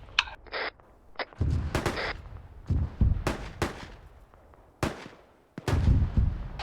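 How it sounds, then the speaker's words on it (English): A mortar barrage explodes in a military video game, a series of heavy booms and cracks at irregular intervals, some near and loud, others more distant, with no talk. "Yeah, I got a mortar barrage going off to the southeast."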